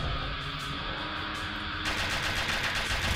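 Rapid gunfire in the video game Uktena 64, a steady dense burst of shots that grows brighter and louder partway through, with no talk.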